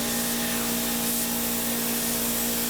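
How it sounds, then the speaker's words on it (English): A spray gun set to a wide fan lays a finish coat across the grain of a wooden piece, giving a steady, loud, close hiss with a constant compressor-like hum underneath, continuous and without talk. "I spray the first pass across the grain to wet the entire piece."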